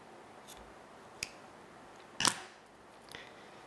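Scissors snip crochet yarn close to a small knot, giving a few faint clicks and one sharper, louder cut in the middle of a quiet room.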